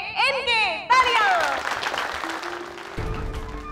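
Applause from a gathered family audience at a party game in a Hindi TV drama, a broad, steady clatter of clapping that swells after a short musical flourish and carries on under the scene.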